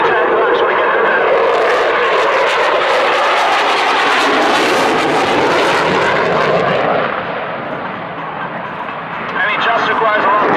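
An Italian Air Force Eurofighter Typhoon jet roars loudly past during a flying display, a sustained broadband thunder that swells and shifts as it passes, dips briefly, then surges again.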